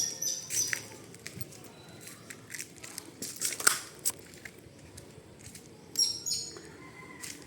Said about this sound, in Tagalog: Katakot naman tunog yung ibon na yun.